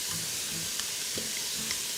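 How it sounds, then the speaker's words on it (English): Soft, steady sizzling of onions and celery frying in a pan, a faint hiss with occasional light stirring sounds, no voices. "I'm going to toss in those onions. You can hear them sizzle."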